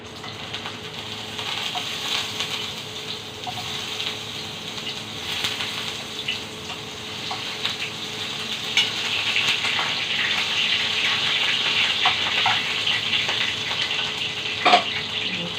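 Ginger sizzles in hot cooking oil in a home kitchen, a steady crackling hiss with scattered pops that grows slightly louder over time.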